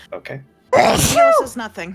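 One loud, abrupt sneeze bursts out close to the microphone, preceded by quiet speech and followed by a drawn-out vocal trail.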